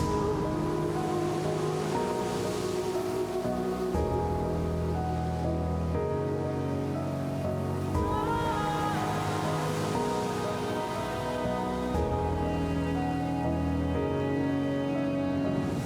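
Sea surge waves pound the eroding Kasaragod coast in Kerala, making a steady, continuous roar of surf that stays at an even loudness throughout, with no voices.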